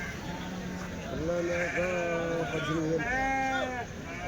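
Young goats bleat close by at a livestock market, several wavering cries overlapping one after another over a noisy background.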